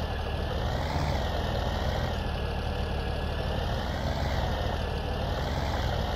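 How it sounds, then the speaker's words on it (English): A tractor engine idles in the video game Farming Simulator 17, a steady, loud low rumble with a faintly wavering hum, unbroken and with no talking. "How did I get my freaking tractor stuck on a light pole?"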